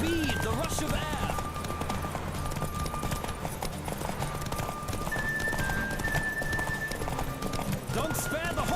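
A horse gallops at speed during a race in the video game The Witcher 3, its quick rhythmic hoofbeats running throughout with occasional neighs, under game music and a voice talking.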